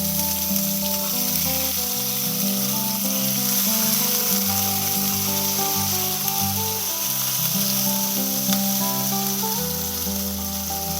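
Thin pork chop slices sizzling in a frying pan, a steady, loud hiss with fine crackle that runs throughout over a bed of background music.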